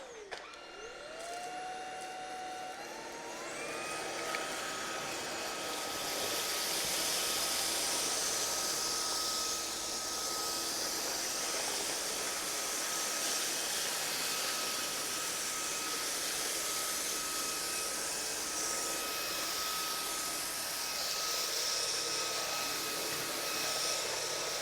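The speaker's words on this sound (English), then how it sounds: "Then we're just gonna get straight into the actual vacuuming test." Klarpul cordless vacuum cleaner on max power picking up rice, spinning up to a steady loud whine with a rising tone, then holding a continuous airy roar throughout.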